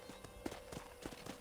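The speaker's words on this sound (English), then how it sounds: "I picked out a fine horse for you" Horse hooves clip-clop at a walking pace in Red Dead Redemption, with soft, evenly spaced steps on the ranch ground that stay fairly quiet and close, with no one talking.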